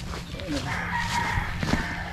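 A rooster crows briefly at a distance amid outdoor background noise and faint voices.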